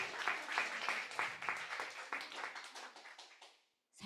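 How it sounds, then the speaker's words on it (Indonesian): An audience claps for about three and a half seconds at a talk, a fairly close, steady burst of hand claps that thins out and stops before a brief noise at the very end. "Tepuk tangan dulu, kalau enggak saya enggak cerita."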